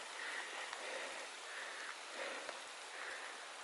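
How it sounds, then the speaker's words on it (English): Rain falls on a trail along the Pacific Crest Trail between Ashland and Crater Lake, a soft even hiss with faint scattered drips, quiet and steady throughout. "A little more rain this afternoon."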